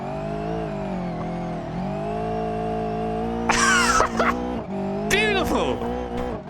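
A rally car engine drones steadily in the BeamNG driving game, its pitch shifting as the car works through corners, with sharp bursts of tire squeal and skidding near the end.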